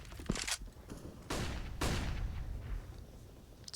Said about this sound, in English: Quick shots from Faven.